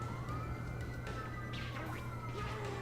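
Ambulance sirens pass outside, wailing and sweeping up and down at a distance, layered over a steady low indoor hum.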